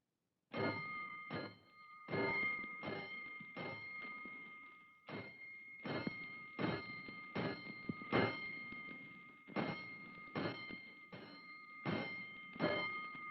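Fire alarm bells in a radio drama, a series of sharp metallic clangs each with a ringing tail, struck in irregular clusters against silence, loud and close.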